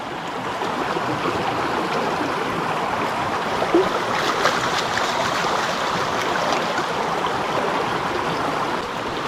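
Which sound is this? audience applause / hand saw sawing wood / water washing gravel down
water washing gravel down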